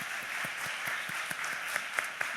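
A church congregation gives a soft, steady round of applause that sounds somewhat distant in the sanctuary.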